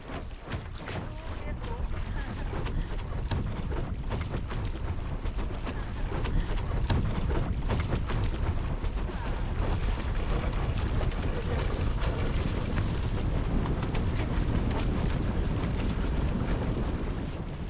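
Continuous rushing wind buffets the microphone on a river boat with a dense, roaring noise, steady gusts over water with no clear voices.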